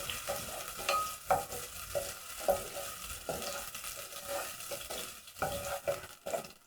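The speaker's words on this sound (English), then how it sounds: "So to my pot, I'm going to add onions. Stir. Cook the onions until soft." Onions sizzle and fry in a pot while a spoon stirs them with repeated scraping strokes, heard up close with no talking. The dish is part of a Kenyan recipe.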